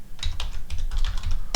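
A password is typed on a computer keyboard in a quick run of about eight close, crisp key clicks, with a slightly louder keystroke at the end.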